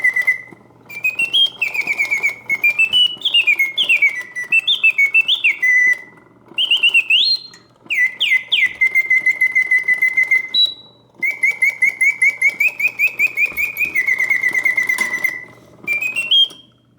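A Karl Griesbaum mechanical singing bird cage automaton sings loud, close warbling birdsong in repeated bursts of sliding, oscillating whistled trills and chirps, separated by brief pauses, with no talking.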